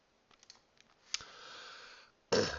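Computer mouse clicks, a few faint quick clicks followed by one sharper click, then a brief hiss-like sound and a louder burst at the end, quiet and close.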